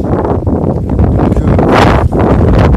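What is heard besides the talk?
gusts of wind outdoors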